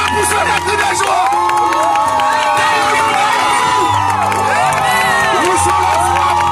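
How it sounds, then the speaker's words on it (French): Wedding guests cheer and shout with joy, a dense, loud crowd of whoops and cries that carries on steadily the whole time. "Est-ce que tu peux pousser des cris de joie?"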